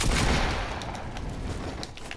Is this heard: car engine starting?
no